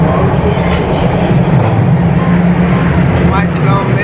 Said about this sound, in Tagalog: Parating na yung subway.